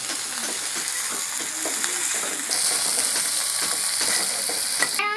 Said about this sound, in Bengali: এবার একটু বড় দিছি রসুন, আমরা ভালো করে লেড়ে নেব